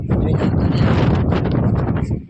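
Wind gusting across a rooftop terrace three floors up, a steady loud broadband rush buffeting the microphone without break, with no speech over it.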